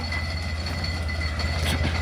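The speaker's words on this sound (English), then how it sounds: "we'll be getting onto the train now" A small park train runs steadily at a wildlife park in Byford, Western Australia, giving a continuous low mechanical rumble with a faint higher whine on top, moderately close and with no talking.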